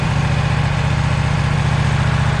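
A diesel engine on a farm sawmill runs with a steady low chugging throb, loud and close with an even rhythm and no voices.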